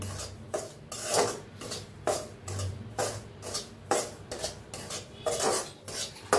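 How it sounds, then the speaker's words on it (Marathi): Semolina (rava) roasts in ghee in a pan for sweet rava puri, stirred with steady rhythmic scraping strokes of a spoon against metal, roughly two per second, close and continuous. "तूप टाकून रवा छान असा भाजून घेऊया"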